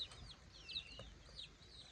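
Faint clucking and high chirpy calls from chickens nearby, soft and intermittent against a quiet background.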